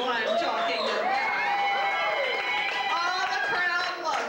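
A crowd cheers and shouts for a performer at the downtown Beirut Hilton, a dense wash of excited voices and whoops sustained throughout.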